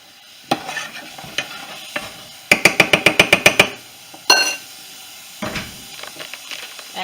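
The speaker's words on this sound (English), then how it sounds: "this is when we're gonna let this butter start melting" Butter melting in a hot pan for a seafood boil sauce, giving a light sizzle with scattered clinks and stirring scrapes and a quick run of sharp metallic taps in the middle.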